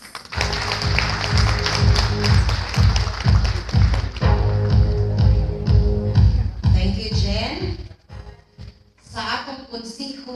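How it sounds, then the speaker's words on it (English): An audience at a school recognition event in Danao applauds the division superintendent, a loud sustained clapping close by that thins into scattered claps and fades out near the end. "a resounding applause to our school's division superintendent, Dr. Lea P. Noveres"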